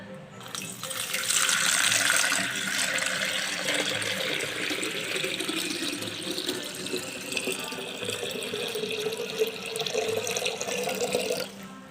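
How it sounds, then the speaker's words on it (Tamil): Clean water pours steadily into a kalasam pot for a Friday pooja in the Tamil month of Aadi, a close, continuous splashing and gurgling stream that deepens as the vessel fills, then stops abruptly. "சுத்தமான தண்ணி நிரப்பிக்கலாம்."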